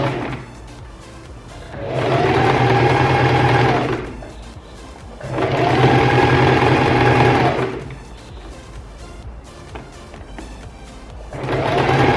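A sewing machine runs a zigzag stitch along a stretched t-shirt hem in three loud, steady whirring bursts of about two seconds, separated by quieter pauses with no talking.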